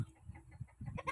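Chickens on a farm on a cold night after rain, giving soft, scattered clucks, close by and moderately loud, with brief louder calls near the end.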